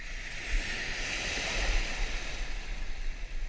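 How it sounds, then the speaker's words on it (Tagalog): Large ocean waves wash around a fishing boat at sea in a steady broadband surf roar with gusty wind noise, constant and close, with no talking. "Laki ng alon."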